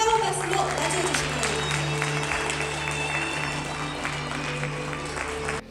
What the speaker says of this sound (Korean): 여러분 뜨거운 박수로 맞이해주시기